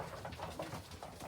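Pigeons in a loft coo softly in a quiet, low, rolling murmur of a few short repeated calls at close range.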